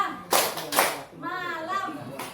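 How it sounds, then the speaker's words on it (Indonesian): Children in a classroom clapping game strike two sharp, loud claps in quick succession, followed by a voice speaking. "Saat saya bilang siang, tepuknya 2."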